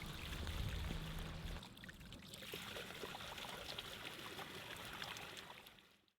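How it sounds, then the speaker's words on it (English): Water from an artesian well streams steadily into a bottle outdoors beside a trail, a continuous close pouring and trickling that fades out at the end, with no talking. "there's a nice artesian well. I'm going to top off on the water before I hit the trail."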